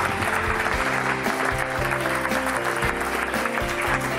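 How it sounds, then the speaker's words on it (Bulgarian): Studio audience clapping to welcome a guest onto a Bulgarian television show, steady applause throughout with music playing underneath. "Нека я посрещнем с аплодисменти"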